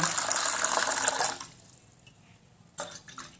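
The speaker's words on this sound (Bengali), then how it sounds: "আমি যেটা করব সেটা হচ্ছে এর মধ্যে ময়দাটা মাখানোর জন্য কিছুটা জল আমি নেব।" Water pours in a steady, bright splash into a bowl for kneading flour for luchi, then stops, followed by a brief second splash; no speech.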